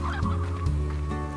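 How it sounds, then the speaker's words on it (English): Hens in the video game Slime Rancher cluck and gobble close by in a dense, continuous burst of overlapping calls, with no talking. "Wow, there's a lot of hens."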